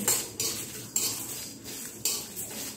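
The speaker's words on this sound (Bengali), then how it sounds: "এবারে সব কিছু মিশিয়ে আবারও একটু ভালো করে ভেজে নিতে হবে" Whole spices (chillies, coriander seeds and fennel) are mixed and dry-fried in a pan, a utensil scraping and rattling through them in a few repeated strokes over a dry rustling hiss, close and without voices.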